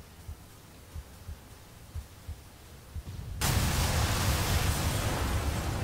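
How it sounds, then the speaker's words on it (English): A slow, muffled heartbeat thumps in paired low pulses in ARMA 3 zombie sandbox gameplay, then a loud wash of broadband noise swells in and buries it. "You can hear his heart beating"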